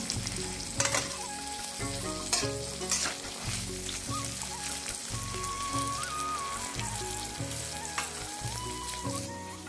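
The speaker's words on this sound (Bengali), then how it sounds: "তারপর এটাকে একটুখানি হালকা ভাজবো" Shelled green peas fry lightly in a pan with a continuous, close sizzle and occasional pops, while a steady low rhythmic hum runs underneath.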